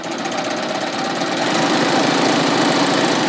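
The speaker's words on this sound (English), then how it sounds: "I'm going to serge off so I can cut the tail" A Baby Lock Ovation serger runs continuously at high speed, sewing off the end of a seam to chain a tail, a loud steady mechanical whir close by.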